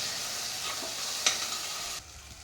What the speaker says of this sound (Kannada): ಇದು ಎಣ್ಣೆ ಬಿಟ್ಕೊಳ್ಳೋ ತನಕ ಫ್ರೈ ಮಾಡ್ಕೊಬೇಕು, ಅಂದರೆ ಹಸಿ ವಾಸನೆ ಹೋಗೋ ತನಕ ಫ್ರೈ ಮಾಡ್ಕೊಬೇಕಾಗುತ್ತೆ.